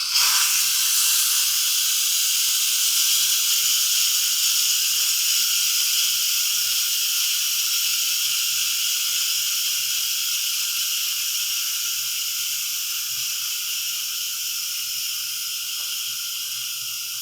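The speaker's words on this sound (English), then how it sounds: "we need to release this pressure and Instant Pot" Steam hisses loudly from an Instant Pot's pressure release valve after cooking a cheesecake. The broad, continuous rush holds steady and then slowly fades over many seconds.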